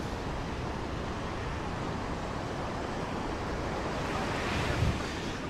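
Ocean waves roll onto Boa Viagem beach in Recife, a steady broadband wash of surf with wind, one slightly louder swell breaking near the end, no voices.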